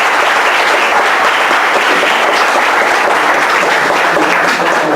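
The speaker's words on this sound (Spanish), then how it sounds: "Para quien pido un fuerte aplauso," A lecture audience breaks into loud, sustained applause to welcome Dr. Rogelio Mendoza, the dense clapping holding steady throughout with no one speaking over it.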